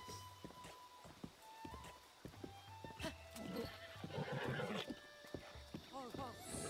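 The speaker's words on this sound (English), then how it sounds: "I got a horsey, Quirty!" A horse in the video game Zelda Breath of the Wild whinnies and clip-clops in short bursts amid game effects and music, with a person talking over it.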